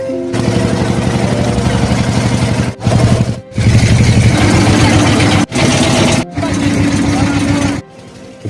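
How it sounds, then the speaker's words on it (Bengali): A loud engine-powered river boat carrying passengers toward a river char, its motor droning steadily and close by with a throbbing low rumble, cutting out in brief gaps before resuming. "ইঞ্জিন চালিত এই নৌকাটি অনেক শব্দ করে।"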